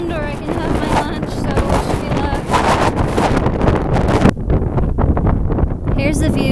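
Strong wind on a mountain peak in New Zealand buffets the microphone with loud, continuous roaring gusts, briefly easing before surging again, with a voice faintly mixed in.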